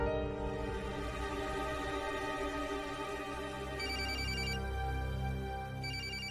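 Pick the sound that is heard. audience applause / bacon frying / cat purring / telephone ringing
telephone ringing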